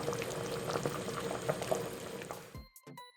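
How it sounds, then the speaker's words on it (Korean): Chicken baek-sook broth, a whole chicken with onion, garlic cloves and leek, boils over medium heat in a pot. The bubbling is steady and close, then it cuts off near the end, leaving a few faint clinks. "중불로 끓여주고 끓어오르면 10분 끓이고"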